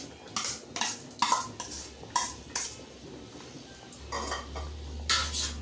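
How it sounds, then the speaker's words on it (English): Cooked dal goes into a pot of simmering sambar, with several short clinks and scrapes of a utensil against the metal pot, moderately close and with no talking. "We have to add the cooked dal."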